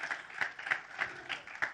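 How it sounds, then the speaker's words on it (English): An audience at a trailer launch event for a streaming series claps in a quick, even rhythm of sharp hand strikes, fairly quiet and brief, with a faint murmur of voices in the room. "So can we just clap for this man?"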